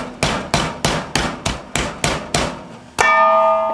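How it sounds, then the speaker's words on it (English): A meat mallet pounds a chicken breast flat into thin cutlets: about nine firm, evenly spaced thuds close up, followed by a brighter, ringing clang at the end. "I'm going to take a meat mallet and I'm going to pound the breast into about a 1/2 inch, 1/3 to a 1/2 inch size cutlet"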